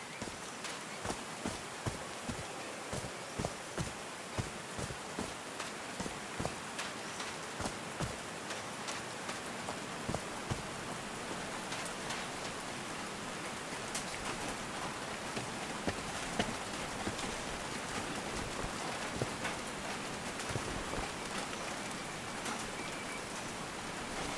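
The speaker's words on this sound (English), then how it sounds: "These drops of rain are so refreshing." Rain falling in the adventure game Call of the Sea, a soft steady patter with scattered sharper drops tapping a surface, interspersed with light rhythmic footsteps, no voices.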